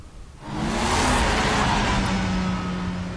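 A car driving in the video game Batman: The Enemy Within: after a brief quiet start, a loud, steady engine roar and road rush build and hold, with no talking.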